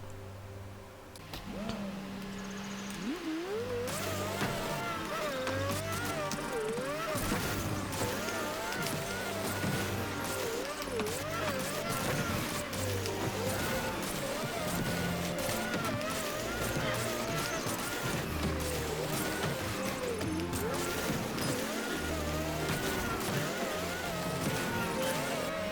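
Rocket League gameplay, with continuous dense engine-like hum, boosts and music-like tones filling the whole stretch at steady loudness, with faint talk underneath.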